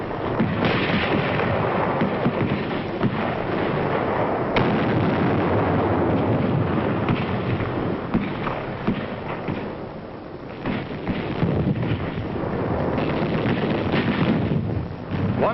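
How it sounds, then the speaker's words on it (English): A World War II artillery barrage firing during the 1944 assault on Kwajalein, in archival footage: a dense, continuous roar of overlapping gun blasts and rumbling booms, loud and sustained throughout with no pauses. "It took only a few moments of firing to empty these shell cases."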